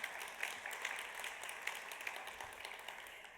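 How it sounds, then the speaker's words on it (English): A round of applause from a conference audience at a relocation research session, steady and fairly faint, with dense clapping sustained throughout and a few sharper claps standing out. "So I think that deserves a round of applause anyway."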